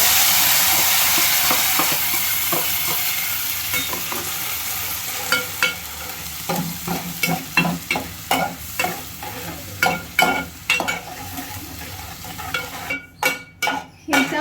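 Masala stirred in a hot pan for palak paneer, a loud steady sizzle at first, then a quicker run of scraping strokes against the pan as the sizzle eases, close and without speech.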